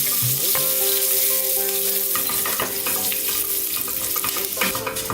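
Urad dal, dried red chillies and curry leaves frying in hot oil over low flame, a steady close crackling sizzle with occasional sharper pops and stirring scrapes, no voices.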